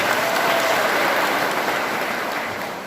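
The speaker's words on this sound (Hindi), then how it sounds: "एक बार ताली बजा दीजिए" Workers clap together at a Bharatiya Mazdoor Sangh office inauguration in a hall, a dense, loud burst of applause that holds steady and then begins to fade without any speech.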